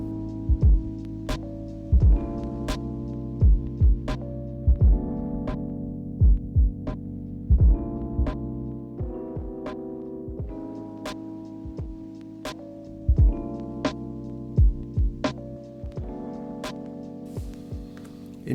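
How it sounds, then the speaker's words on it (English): An Elektron Analog Heat Mk2 distorts a looping beat: punchy thumping kicks and thick, buzzy sustained bass tones repeat in a steady rhythm, with no talking. "And you can create beautiful sounding distortion like that."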